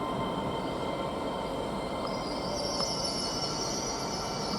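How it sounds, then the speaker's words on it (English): Class 800 train 800 312 pulls out of Didcot Parkway on the Great Western Main Line toward Cheltenham Spa, a steady close rumble of wheels and traction with a high squealing tone rising midway. "we have 800 312. Heading off to Cheltenham Spa."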